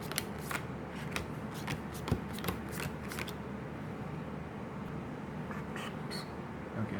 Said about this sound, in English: I'm gonna give it a star shuffle